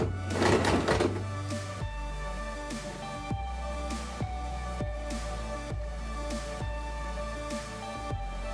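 A sewing machine stitches fabric in a steady whirring run, with repeating mechanical clunks in a regular rhythm after a louder burst at the start.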